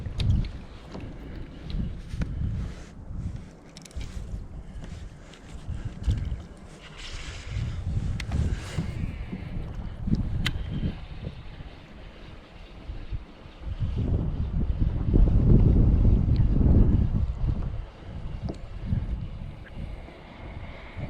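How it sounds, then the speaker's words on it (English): Wind gusts buffet the microphone on open water while fishing from a Crescent LiteTackle kayak in roughly 12 mph winds, rumbling in uneven waves that swell loudest near the end, with faint water and hull knocks between. "And you can see the wind's blowing me a little bit."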